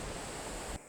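Water from a stream on a hiking trail flows in a steady, loud, close rush that cuts off abruptly at the end.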